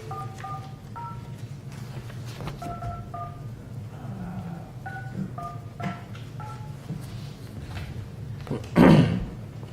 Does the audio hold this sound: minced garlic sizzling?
no